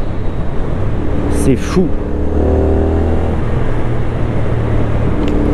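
A CF Moto 450 NK roadster's engine pulling hard under kickdown acceleration, a steady droning exhaust note rising in pitch under wind noise, with a rider talking briefly over it.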